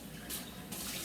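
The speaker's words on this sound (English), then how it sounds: "I'm gonna wash this out." A kitchen tap runs as a container is rinsed out, a steady close hiss of flowing water that surges louder twice as the stream hits the container.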